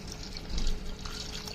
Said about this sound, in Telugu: సో ఒక గ్లాస్ వాటర్ పోసుకొని